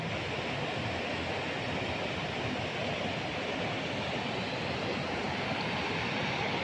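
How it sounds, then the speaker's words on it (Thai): Broad, steady roar of a waterfall pouring down a salmon stream in Norway, a dense unbroken rush of water heard close and loud throughout with no voices. "มักน้ำตกแบบนี้เนาะจ้ะ แบบน้ำไหลแบบเนี้ย"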